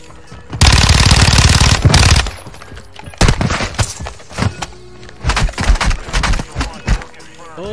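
Rapid automatic gunfire in the Call of Duty MW3 DMZ shooter, a loud sustained burst followed by several shorter bursts and single shots at close range, with no talk over it.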